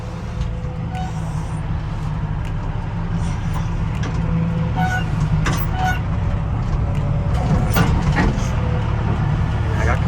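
A Komatsu WA200-1 wheel loader raises its lift arms, its engine and hydraulic pump holding a steady low rumble while sharp mechanical clanks and knocks sound intermittently close by.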